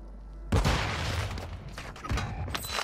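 Gunfire in Call of Duty Warzone 2.0 on Ashika Island, a loud burst of sustained shots that starts abruptly and keeps rattling for a few seconds, then swells again near the end.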